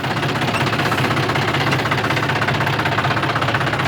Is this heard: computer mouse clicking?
no